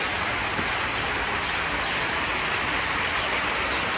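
Heavy rain pouring down into outdoor guppy fish ponds, a dense, even roar of falling water that stays loud and unbroken throughout.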